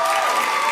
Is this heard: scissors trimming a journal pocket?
no